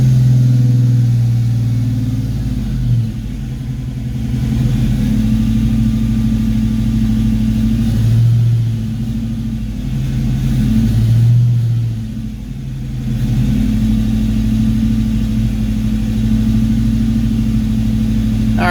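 A Foxbody Mustang engine, just given a rev, runs through a cylinder balance test, holding a loud, steady mid-pitched drone that swells and dips slightly across roughly twenty seconds, with no talking over it.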